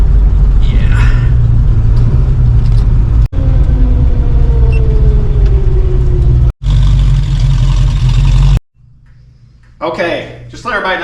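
A 1966 Ford Mustang fitted with EFI and an overdrive transmission is driven, its engine giving a loud steady rumble with a rising tone, broken by brief cuts, then quieter road noise as people talk near the end.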